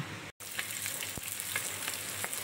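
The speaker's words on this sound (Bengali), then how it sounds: "ডিম ভাজতেছি আমি।" Eggs frying in hot oil in a pan, a steady close sizzle with soft crackles and a few sharper pops, broken by one brief dropout near the start.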